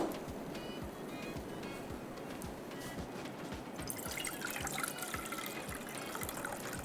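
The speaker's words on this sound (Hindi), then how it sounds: "इसके अंदर जाएगा पानी।" Water poured into a cooking pan in a kitchen while rice and black pepper beef are being prepared, a steady close splashing trickle that grows brighter and fuller toward the end, with no talk.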